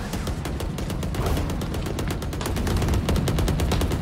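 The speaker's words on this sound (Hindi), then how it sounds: "किसको गोलियां मार रहे हो" Rapid bursts of gunfire crackle without pause in Valorant, shots layered close and far in a dense, continuous barrage with no voices.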